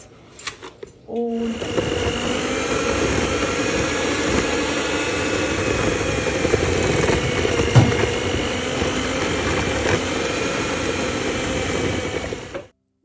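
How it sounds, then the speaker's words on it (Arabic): A loud, steady electric mixer beating butter and sugar whirs continuously for about eleven seconds, starting abruptly and cutting off at the end, with no talking. "لانه الصوت كتير قوي، صوت الخفاقه او العجانه"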